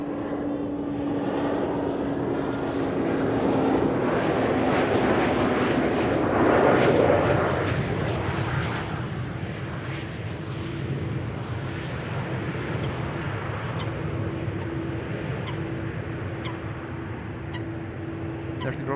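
An Embraer 190 airliner arriving from Billund lands at Amsterdam Schiphol, its broad engine roar swelling to a peak and then settling into a steady rumble with a thin whine, while a commentator talks.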